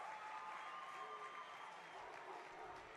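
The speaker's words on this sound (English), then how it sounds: "they're applauding all of these gymnasts at the end" Fans applaud gymnasts at the end of a routine at a college gymnastics meet, Arizona at Southern Utah, with steady arena clapping and crowd noise under continuous commentary.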